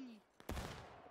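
A single massed musket volley fired by an infantry line in a video game, one sharp loud blast followed by a rolling, decaying crackle and echo, preceded by a short voiced shout.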